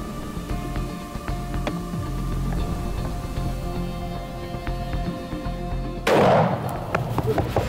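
A single loud rifle shot during a mouflon hunt on a safari expedition, cracking out near the end after several seconds of quiet outdoor ambience with faint movement.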